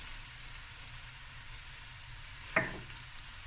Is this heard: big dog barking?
no